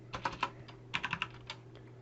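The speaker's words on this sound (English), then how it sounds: "all the crazy typing that you do." Fast typing on a computer keyboard comes in quick bursts of sharp, close key clicks with short pauses between them, over a faint steady electrical hum.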